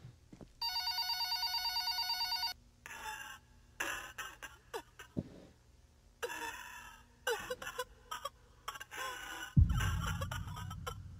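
An electronic telephone bell rings in a fast trill for about two seconds in the video game Dark Doll, followed by scattered moans and gasps, with a low thud near the end.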